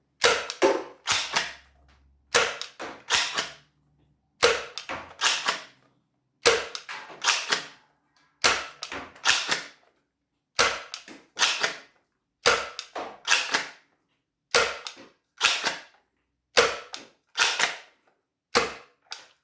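Gecko toy blaster with a machined upgrade barrel firing foam darts, about a dozen sharp snapping shots spaced a couple of seconds apart, each a loud close crack with a short mechanical rattle and no talking between shots.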